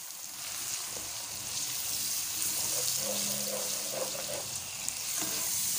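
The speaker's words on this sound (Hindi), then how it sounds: "अब इस फॉर्म में डालूंगी मैं ये पानी, थोड़ा सा हम पानी डालेंगे" Water poured into a hot pot for masala rice, a continuous splashing rush over a sizzling, bubbling base, close and steady, with no one speaking.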